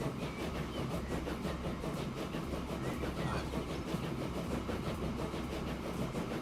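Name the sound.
train ride in video game Transport Fever 2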